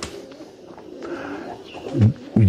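Pigeons in a loft give a couple of soft, low cooing calls close by near the end, with faint rustling and movement beforehand.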